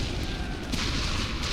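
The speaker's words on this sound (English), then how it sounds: "Good thing our artillery is doing an excellent job over there." Continuous heavy rumble and booming of artillery fire in a World War I video game, dense low thuds blending into one roar with sharper distant cracks, loud and without speech.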